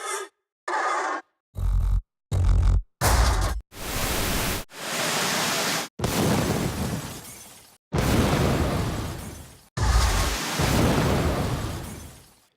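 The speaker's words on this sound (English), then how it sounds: "The explosion comes from a sample library and is made of two different layers." Designed rocket launcher effect built from a layered, sampled explosion, heard as a run of separate bursts: short sharp cracks first, then longer roaring blasts that each fade out, with silence between them.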